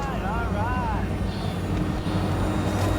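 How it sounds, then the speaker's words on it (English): A small drone hums in the Cyberpunk 2077 Badlands, a steady droning engine tone with wavering whine, heard alongside game sounds and voices. "Did you fire up that drone? The little bird is humming away."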